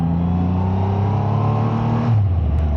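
A 2023 Triumph Rocket 3R motorcycle with a 2.5-litre engine drones loud and close at steady revs, then drops in pitch as the throttle closes into a low burble.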